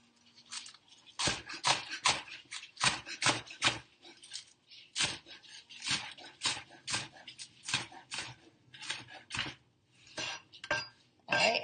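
Green onions chopped with a knife on a cutting board, a fast run of sharp, close taps in uneven bursts with brief pauses, all fairly loud and without talk.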